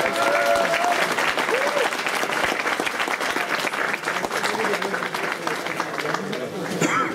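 Sustained audience applause at a nighttime charity run's awards ceremony in Zvolen, dense steady clapping from a crowd filling the whole stretch, with faint voices mixed in.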